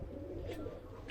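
Pigeons cooing softly among birds kept in a loft, a low continuous murmur of coos with a brief higher chirp, fairly faint and without talk.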